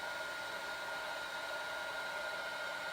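Heat tool or hair dryer blowing on freshly inked 300 gram super smooth card during stamping, a steady close whirring hum throughout with no talk.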